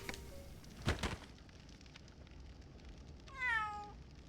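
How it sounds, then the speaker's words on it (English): A stray cat in the game Labyrinth of Galleria gives a single rising, wavering meow near the end, after a couple of brief thuds and a quiet stretch of near silence. "Cat."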